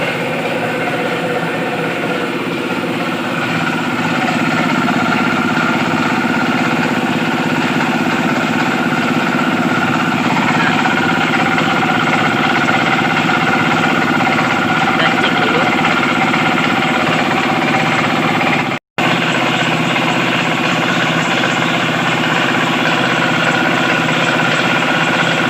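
An electric air compressor runs steadily and loudly, a constant motor and pump drone that continues unbroken except for one very brief dropout.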